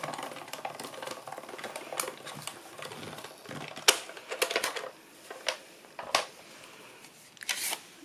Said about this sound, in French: Vous venez passer votre petit dossier de gaufrage dans la machine.